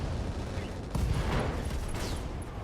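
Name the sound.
ammo explosion and weapons fire in the video game RogueTech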